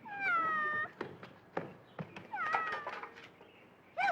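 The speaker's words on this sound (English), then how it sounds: "Don't chase that cat!" A domestic cat meows several times up close, loud drawn-out cries at the start, then again mid-way and once more at the end, with no one talking.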